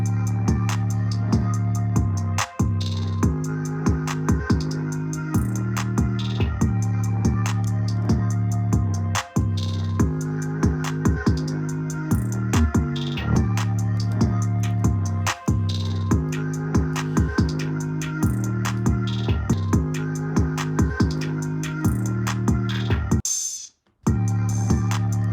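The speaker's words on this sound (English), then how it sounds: "Here's the full first 808 pattern." Looping 808 bass pattern in a hip-hop beat built from chopped samples: deep booming bass notes repeat in a steady rhythm under crisp hi-hats and sampled melody for about 23 seconds, then stop abruptly and briefly resume.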